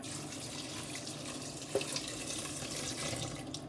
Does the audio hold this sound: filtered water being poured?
yes